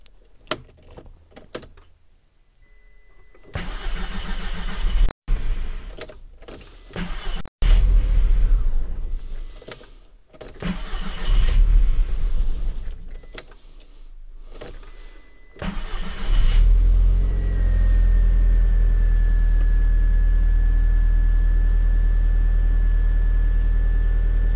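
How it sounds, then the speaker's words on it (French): Audi TT MK1 with a starting fault: several short cranking bursts with pauses, then the engine catches and settles into a steady idle with a faint whine. "Et ensuite on va voir si ça démarre mieux."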